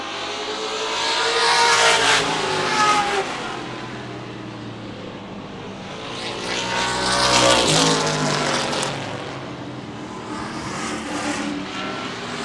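Race cars, including a Chevelle, roaring around an oval track, engines swelling loud as they pass close by twice and fading between, a continuous drone with no talk.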